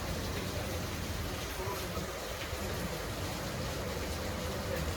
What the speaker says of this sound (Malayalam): പക്ഷേ ഭയങ്കര മഴയാണ്